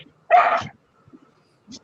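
A dog gives one sharp, close bark, followed by quieter short noises and a faint second yelp near the end.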